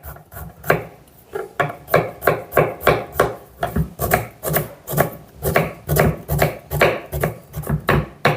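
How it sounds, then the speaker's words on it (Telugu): Ginger, about an inch of it, chopped finely with a knife on a wooden board for street-style idli-batter bondas: a steady run of close, crisp chops, roughly two per second, with no talk. "ఇప్పుడు 1 ఇంచు అల్లాన్ని కూడా సన్నగా కట్ చేసుకుందాం."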